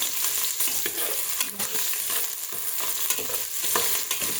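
A big batch of ginger fries in hot oil for pinapaitan, giving a loud, continuous, close hiss with occasional stirring scrapes. There is no talking.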